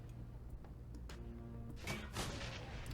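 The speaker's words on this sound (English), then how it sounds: "I can use this grenade." A grenade goes off in the Shadowrun: Hong Kong video game, a burst of broadband blast noise near the end of the clip that rises over a steady low game hum and music bed, with no talking.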